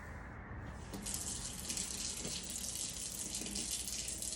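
Tap water runs steadily into a sink while hands are washed before mixing homemade bread dough, a continuous close splashing hiss that swells slightly after the first second, with no voices.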